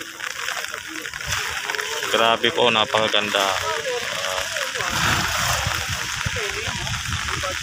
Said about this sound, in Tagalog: Pagmasdan nyo at pakinggan nyo yung mga hampas at tunog ng ating alon dito po sa ating dolomite